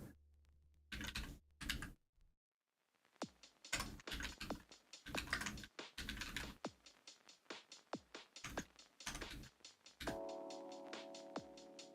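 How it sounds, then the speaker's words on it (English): Rapid bursts of computer keyboard typing, close and fairly quiet, come in uneven clusters of keystrokes with short pauses, and a steady hum joins near the end. "I'll just type it out."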